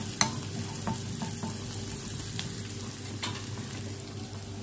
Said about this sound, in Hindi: हल्का सा स्टफ फ्राई करेंगे।